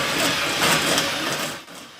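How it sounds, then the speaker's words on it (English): Drill driving a holesaw into metal to start a cut, a close, steady grinding whir with a rough cutting texture that eases off near the end. "we're going to just ginger carefully start the hole"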